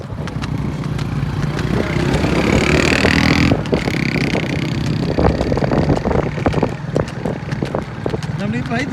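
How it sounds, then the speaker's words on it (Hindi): A motorcycle ridden during an open road challenge roars steadily with wind rush for the whole stretch, while several people talk loudly over the engine. "जोनी भाई ड्राइवर बहुत जबरदस्त है जी बाइक के।"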